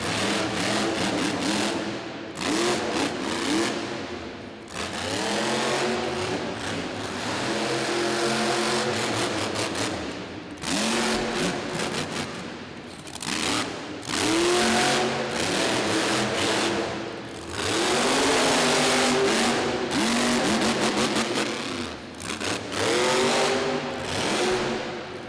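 The monster truck Bad Habit, wearing a Big Jeep Gladiator body, roars around an indoor arena track, its engine surging and revving in long loud bursts with brief dips between, crowd and arena noise mixed underneath.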